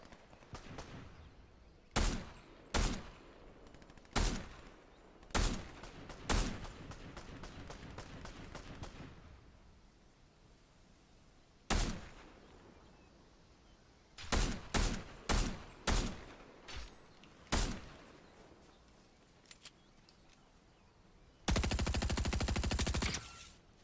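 Fortnite video game gunfire: a series of sharp, loud single shots spaced irregularly, then a tight cluster of rapid shots, ending in a dense sustained burst of automatic fire.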